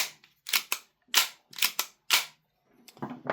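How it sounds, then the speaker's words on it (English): Airsoft Kizuna Works Basilisk BSK43 G-Capa hi-capa pistol having its slide racked back onto the frame and locked in; a series of sharp, close metallic clacks and snaps, about six in quick succession, followed by softer handling noise. "We can slide that back onto the frame, like so. We line that up like you normally would on a hi-capa. And that locks back in."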